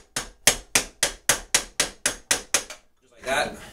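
Rhythmic striking while the back is popped off a Hayward Super Pump II MagTech pool pump motor, with about eleven sharp, evenly spaced hits followed by a brief scuffling noise.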